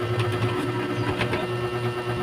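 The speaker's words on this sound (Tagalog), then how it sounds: "Pasensya na kayo, baka maingay yung electric fan." A noisy electric fan runs close by with a steady mechanical hum and constant whirring drone, unbroken and fairly loud, with no voices over it.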